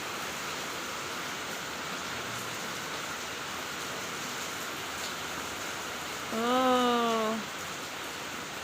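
Heavy rain falls in a dense, steady hiss that stays even throughout, with a brief tonal call or whine rising near the end and a short spoken exclamation.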